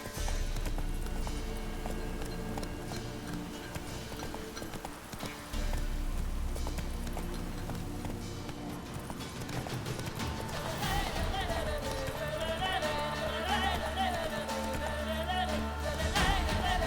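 A horse gallops with steady hoofbeats in The Witcher 3: Wild Hunt, layered under continuous loud game music.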